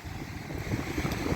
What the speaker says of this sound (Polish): No, ale jest wiatr.